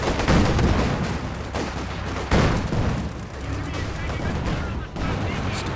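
A T-70 tank in a multiplayer war strategy game fires at soldiers running away, heavy booms and rattling gunfire over a dense, continuous din of battle.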